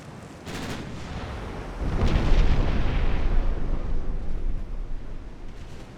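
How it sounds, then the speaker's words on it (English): Main naval guns of an 1893 French light cruiser firing in Ultimate Admiral: Dreadnoughts, a sharp crack followed by a heavy booming blast and a long rolling rumble that slowly fades, loud and with no talking. "Turning off the smaller guns, letting those main guns work"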